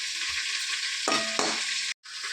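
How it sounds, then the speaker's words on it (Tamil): Dried red chillies frying in sesame oil, a loud close sizzle with a short burst of stirring scrapes in the middle and a brief cut near the end. "அதே எண்ணெயில் காஞ்ச மிளகாய் வறுத்து எடுத்துக்கணும்"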